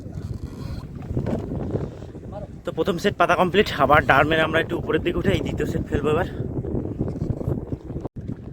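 Strong gusty wind buffeting across a river in the Sundarbans while a fishing boat is rowed, a steady roaring rush with water noise as someone speaks over it close by.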